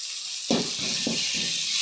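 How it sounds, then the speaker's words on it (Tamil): Onion, ginger and garlic paste sautéing in hot oil: a bright steady sizzle, with a few sudden bursts of louder crackle as the paste hits and is stirred, close and loud. "இஞ்சி பூண்டு பேஸ்ட்டை போட்டுட்டோம். நம்ம போட்டு நல்லா வதக்கிக்கலாம்."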